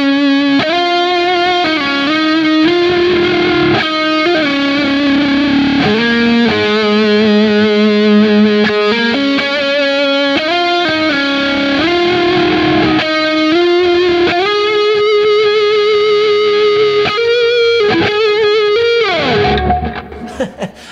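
Electric guitar runs through a Kemper profiler with double compression, giving a sustained, heavily compressed tone of long held notes and slides that ring continuously for about twenty seconds before fading at the end, loud and alone.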